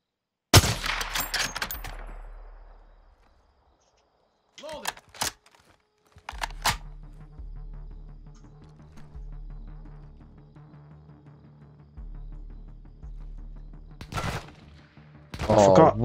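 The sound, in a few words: gunshots in a video game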